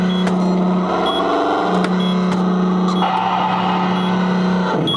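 Car engines drone loudly in the Sega Turbo arcade racing game, a steady buzzing engine tone with shifting pitch and a few sharp clicks and blips layered over it, continuous throughout.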